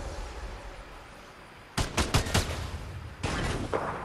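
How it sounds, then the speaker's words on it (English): Bursts of video game gunfire from a fight against robots, several sharp volleys arriving near and loud in quick succession over a quiet bed, then a sustained stretch of rapid shots. "shooting robots and shit."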